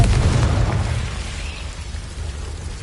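Confringo explosive spell blast in a video game, a loud booming burst that fades into a rumbling tail over a few seconds, with no talk over it.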